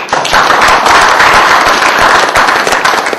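Audience applause after a lecture honoring a professor, a dense, loud crowd of clapping hands sustained throughout with no voices.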